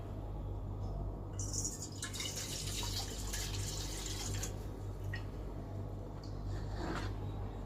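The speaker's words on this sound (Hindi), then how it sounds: "अभी फिर से एक बार गमले को मैं धो लूंगी स्वच्छ जल से" Clean water is poured over a flower pot while it is washed, giving a steady close splashing and trickling with faint drips and a constant low hum beneath, with no one talking.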